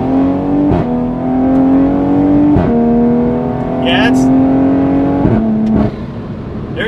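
Toyota Supra with a ZF automatic transmission accelerating hard, engine note climbing in steps with quick upshifts producing clear drops in pitch, loud and close inside the cabin.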